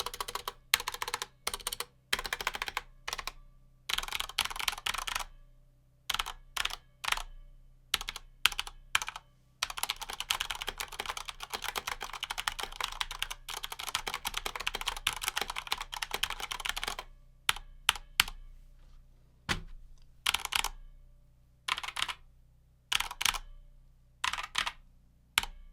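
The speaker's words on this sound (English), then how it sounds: "now let's get over here to our one with cherry speed silvers." A TKL keyboard with Cherry Speed Silver switches typed on up close, with dense bursts of quick key clicks between short breaks and scattered single presses toward the end, with no talking.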